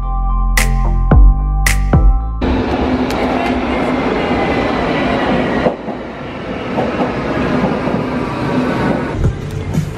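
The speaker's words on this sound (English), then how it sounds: "Now heading down in the U-Bahn, the underground in English terms. So yeah, we're gonna catch a train." A Berlin U-Bahn underground train heard from the platform or carriage, a loud sustained roar with rattling wheels that starts after a couple of seconds of sharp tones, drops in level near the middle, then rumbles on.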